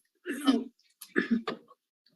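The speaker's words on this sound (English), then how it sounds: "I was just clearing my throat" Two short, rough bursts of throat clearing in a courtroom, close and fairly loud, separated by a brief pause, with quiet in between.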